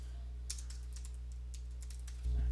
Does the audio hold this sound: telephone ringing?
no